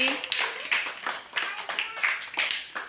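Schoolchildren in a classroom clapping together in a quick rhythmic run of about a dozen sharp claps, with a voice mixed in.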